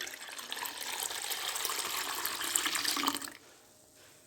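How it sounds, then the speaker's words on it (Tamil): Water pours steadily into a pot of thuthuvalai rasam for about three seconds, a continuous close splashing stream that then stops abruptly. "இப்போ தண்ணி விட்டுக்கலாம்"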